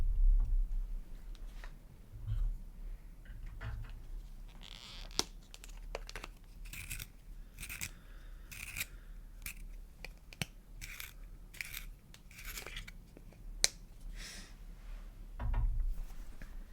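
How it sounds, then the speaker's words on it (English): A colored pencil is sharpened close to the microphone: a series of soft, scratchy grinding strokes and small shaving crackles in an irregular rhythm, with occasional light taps and low thumps in a quiet room. "Actually, I'm going to sharpen my pencil first."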